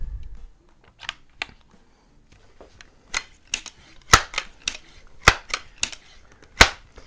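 Multi-pump air rifles, a Sheridan C9A in .20 and a Benjamin 397PA in .177, make a string of sharp, close cracks and clicks at irregular intervals in an otherwise quiet setting.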